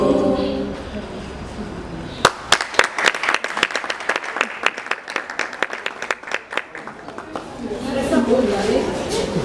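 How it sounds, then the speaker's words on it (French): Applause at a cultural holiday event after a welcome song: singing fades out, then a group breaks into rhythmic clapping. The sharp, close claps run for several seconds before voices return over the end. "De gros applaudissements pour le message de bienvenue."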